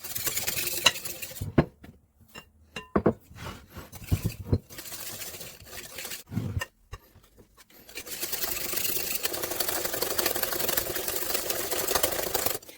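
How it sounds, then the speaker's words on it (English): Eggs and sugar are whisked together in a bowl for crema catalana. Bursts of quick, rhythmic scraping and clinking stop and start, then give way to a longer stretch of continuous whisking. "So let's whisk the eggs and the sugar together."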